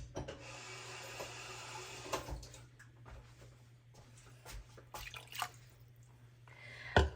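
Water is added to a gravy dish with a few soft drips and small pours, quiet and close, over a low steady hum with light kitchen clatter and no speech.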